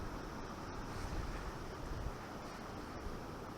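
Steady wind rushes across open water at a fishing spot, with a continuous broadband roar and faint wave wash underneath and no voices.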